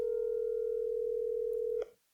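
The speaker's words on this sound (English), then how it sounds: "Actually, let me just call him." A steady telephone dial tone hums loud and unbroken for nearly two seconds, then clicks off abruptly as a call is placed, leaving near silence.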